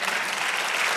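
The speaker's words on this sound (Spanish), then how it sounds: "Dale aplauso al Señor." A church congregation claps together in steady, dense applause that holds at an even level from start to finish.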